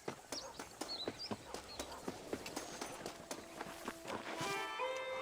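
Horse hooves clip-clopping in rhythm while riding in the video game Red Dead Redemption, a steady run of hoofbeats with faint birdsong, and the footfalls quicken toward the end.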